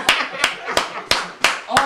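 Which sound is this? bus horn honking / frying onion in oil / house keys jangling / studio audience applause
studio audience applause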